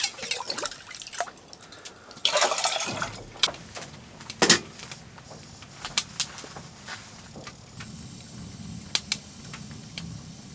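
Drinking water is drawn from a hole in frozen lake ice: close splashes and dripping, an early loud pour, then scattered drips and clinks over a low outdoor background.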